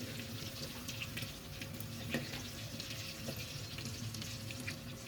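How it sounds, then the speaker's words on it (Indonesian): Slices of white bread frying in hot oil in a pan, a steady close crackling sizzle with scattered pops, continuous and alone without voices. "Kita goreng lagi, lanjut dengan bagian sisinya"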